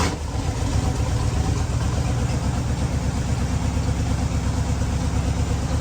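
A hand-built vehicle nicknamed the pig, an engine running at a steady idle after being powered on with a little throttle, its dense low rumble continuous and close throughout with no talk.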